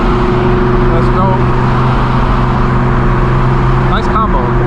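Straight-piped BMW M4 G82 exhaust droning loud and steady from close by while driving, a constant deep engine tone with strong harmonics and no break, with road and traffic noise around it.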